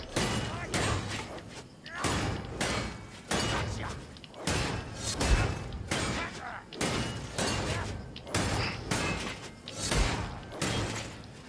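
Halberd swings in Vermintide 2, a push attack followed by two light attacks in repeating cycles, each bursting into loud slashing impacts and crunching hits at a steady rhythm, with someone talking over them.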